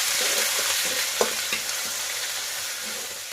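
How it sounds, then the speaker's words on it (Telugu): Ginger garlic paste frying in hot oil for a fish curry, giving a continuous close sizzle with a few soft spatula scrapes and taps as it is stirred. "ఇప్పుడు అల్లం వెల్లుల్లి ముద్ద వేస్తున్నాం. ఇది పచ్చి వాసన పోయేంత వరకు వేయించాలి."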